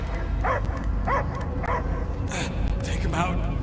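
Dog barking and yipping in the Guardians of the Galaxy video game, several short bark bursts at a steady pace mixed over game ambience and background voice sounds.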